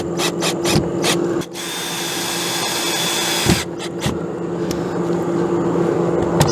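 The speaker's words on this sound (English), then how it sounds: "I'm just going to go around and get all them screws in" A power driver runs stainless steel screws into the flange of a Max Air fan, a sustained whirring drive in the middle preceded and followed by short clicks, taps and bursts, with a steady background hum.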